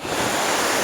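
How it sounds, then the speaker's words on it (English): Ocean waves surge and wash over a person lying in the shallows at a beach, a loud, close, continuous roar of churning surf and spray with no talking. "But the waves washing over me."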